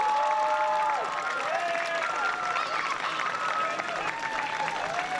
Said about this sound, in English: How about a round of applause for the Mascot Hall of Fame team members and volunteers, as well as the City of Whiting staff.